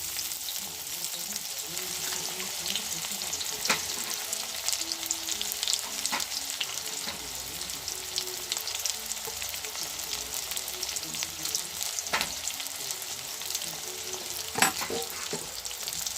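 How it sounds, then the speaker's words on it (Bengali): Chopped onions fry in a wok with a constant bright sizzle, punctuated by occasional scraping knocks from stirring, close and steady without talk. "কড়াতে আমি পেঁয়াজ দিয়ে দিয়েছি। নেড়ে নিচ্ছি একটু পেঁয়াজটা।"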